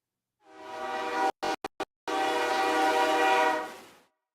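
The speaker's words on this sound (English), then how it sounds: "I want to see that damn train, Gootsy." A loud, sustained train horn blasts for about four seconds as a sound effect, broken by several abrupt cutouts early on before it resumes steadily and fades.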